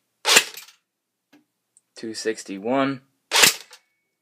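A G&G UMP .45 airsoft gun fires BBs on semi-auto at a chronograph, two sharp loud snapping shots spaced about three seconds apart, with a short spoken number between them.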